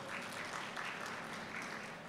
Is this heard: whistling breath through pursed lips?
no